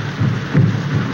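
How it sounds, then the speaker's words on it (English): Rain at night in a 1932 film scene, a loud, steady rushing downpour with a low rumbling undertone, heard briefly on its own. "This rain and those drums."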